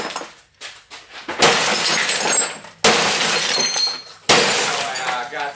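Glass shattering as a TV is smashed for scrap metal, three loud crashing bursts with broken glass crunching and rattling after each blow, preceded by some softer knocks and handling.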